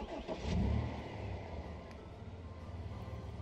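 A car engine turns over and starts in Final Fantasy XV, a short low rumbling burst that settles into a steady idle beneath game music.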